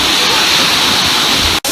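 A waterfall on a cold family hike roars loud and close, a broad hiss of falling water that stays steady before cutting out abruptly near the end.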